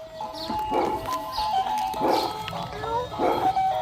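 Dog barking in repeated bursts roughly every 1.3 seconds, close and fairly loud, while a person urges it on to bark at and chase pigs.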